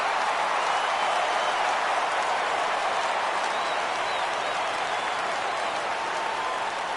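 A baseball video game crowd roars steadily through a tense full-count moment, a dense, continuous wall of cheering and clapping at an even level from start to finish.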